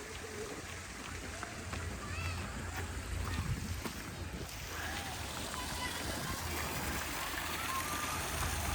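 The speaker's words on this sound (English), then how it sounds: "waterfall there, lovely little stream." A small waterfall feeding a little stream at RHS Harlow Carr Gardens in Harrogate gives a steady rushing wash throughout, with faint talk and a brief animal call over it.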